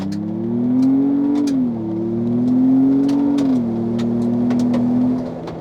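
A 2024 Ford Bronco Everglades on a gravel road accelerates at full throttle, its engine droning loudly with rising pitch that dips briefly at a shift before climbing again, heard from inside with faint gravel crackle.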